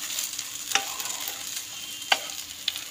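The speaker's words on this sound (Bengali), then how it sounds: "একটু ভালো করে নাড়িয়ে চাড়িয়ে নেব।" A bottle gourd and prawn curry with moong dal being stirred in a pan, a soft low simmering hiss broken by a few sharp clicks of the utensil against the pan.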